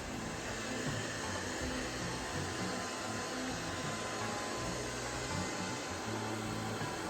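An iMartine robot vacuum cleaner runs with a steady, loud motor whir and airflow hiss while it climbs over a fringed rug, the drone holding constant throughout without talk.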